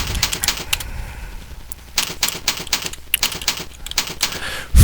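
Rapid, uneven keyboard typing close by, bursts of clicking keystrokes with a short pause partway through and a louder thump at the end.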